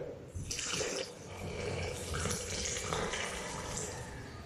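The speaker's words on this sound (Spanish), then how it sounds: "Entonces una vez revuelto bien, vamos a añadir agua." Water poured into a dry concrete mix, a steady splashing trickle of about 400 ml running for several seconds, close and moderately loud with no talking.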